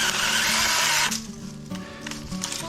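A small mini chainsaw buzzes at high revs, then bogs down into a lower, uneven drone as it cuts through brush at a campsite, loud and close.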